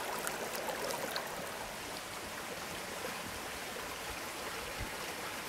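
Creek water flowing steadily in Ecuador, a soft continuous rushing and burbling with no distinct events, faint and unbroken from start to finish.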